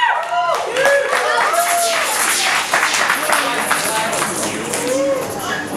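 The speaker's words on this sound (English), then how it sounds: "Everyone give her a round of applause" Applause and cheering from a crowd at a music networking event, dense clapping mixed with whoops and voices, loud and close throughout.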